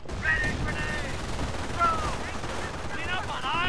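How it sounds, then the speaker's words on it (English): Machine gun bursts ring out in the video game Company of Heroes, rapid crackling fire under continuous battle noise and occasional game voices, fairly faint and dense throughout. "I've enabled these machine guns"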